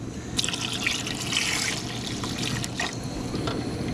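A quart of broth pours into a pan of flour gravy, making a continuous close trickle and splash of liquid that holds steady for the whole few seconds, with no talking over it.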